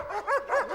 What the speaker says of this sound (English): it sounds like barking dogs are nearby if the front door opens